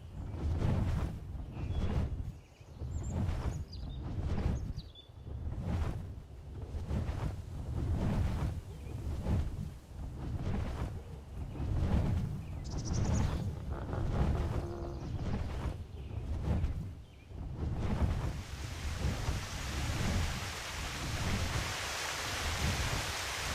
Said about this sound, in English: Waterfall. Nice. Right by the entrance.